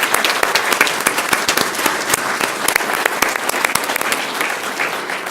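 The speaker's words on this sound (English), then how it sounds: "Round of applause for them." A crowd at a school governing board meeting gives a sustained round of applause for state champion baseball players, dense steady clapping with a few sharper claps standing out, close and loud throughout.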